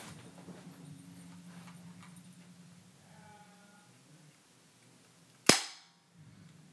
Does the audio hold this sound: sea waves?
no